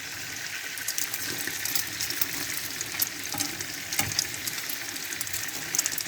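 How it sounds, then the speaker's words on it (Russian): Slices of bread frying in a pan on a home stove, giving a steady, close crackling sizzle with small bright pops throughout. "Хлебушек у меня уже жарится."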